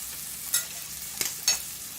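Shrimp cooking in a pan with a tablespoon of butter, a soft steady sizzle broken by three short, louder bursts of hissing spatter, close and without talk.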